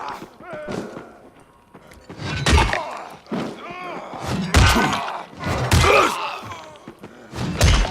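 Zombies bang and thud against a door in a horror video game; heavy, irregular impacts and slams repeat loudly throughout, with crunching, rattling noise between hits and no talk.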